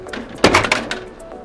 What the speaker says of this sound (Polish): otwieram klapę drukarki